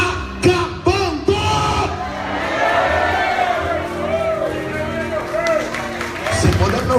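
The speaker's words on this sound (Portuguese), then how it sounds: "você dá um grito de glória a Deus" Church congregation at a night worship vigil erupts in loud shouts of praise, many voices yelling and whooping together after a few sharp bursts, sustained in a roaring crowd swell.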